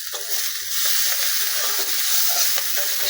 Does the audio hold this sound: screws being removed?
no